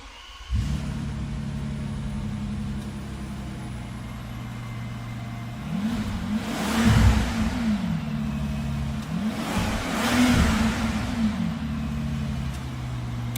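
The 6-liter twin-turbo W12 of a 2010 Bentley Continental idles with a deep, smooth rumble, then is revved twice, each rev swelling to a throaty peak before settling back to idle.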